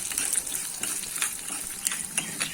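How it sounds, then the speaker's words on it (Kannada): Cumin, chana dal and urad dal roast in a hot pan, giving a soft continuous sizzle with light crackles and occasional stirring scrapes, no voices present. "ಜೀರಿಗೆ, ಕಡಲೆಬೇಳೆ, ಉದ್ದಿನ ಬೇಳೆ ಎಲ್ಲಾನು ಚೆನ್ನಾಗಿ ರೋಸ್ಟ್ ಮಾಡ್ಕೊಳ್ಳೋಣ."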